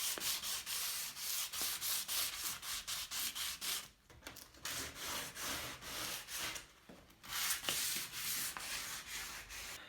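Rhythmic back-and-forth scratching of sandpaper on painted wood trim, steady close hand strokes with a couple of brief pauses.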